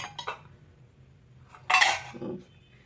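Four bowls bumped and set down, a few light clinks early on, then a louder ceramic clatter and a softer knock near the end, close and crisp in a quiet room.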